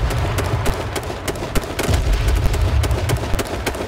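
Rapid gunfire in the battle-royale game H1Z1, with dense, sharp shot cracks repeating steadily over a booming low rumble and no talk.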